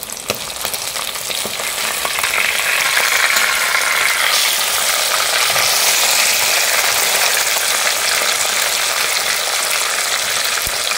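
Loud, continuous sizzling of pabda fish frying in hot oil in a pan, a dense crackling hiss that stays steady throughout with no voices.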